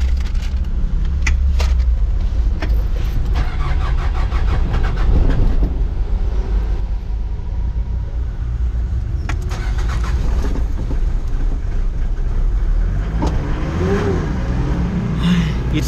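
A parked van's engine cranks and tries to start after its flat battery was recharged, a loud, rough churning mechanical rumble with uneven bursts and rattles throughout, rising toward the end.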